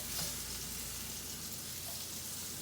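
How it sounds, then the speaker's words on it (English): Steady, close sizzling of mushrooms frying in hot oil, a dense crackling hiss that continues evenly with no voices. "You can hear that oil nice and sizzling."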